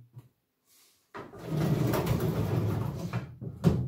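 A wooden storage drawer holding stacked ukiyo-e woodblock prints slides open with a steady scraping rumble of about two seconds after a brief quiet pause, ending in a light knock.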